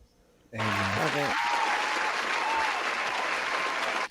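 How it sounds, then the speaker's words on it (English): A burst of loud, dense clapping from a crowd starts abruptly and holds steady for several seconds before cutting off sharply. "Had to throw in some applause."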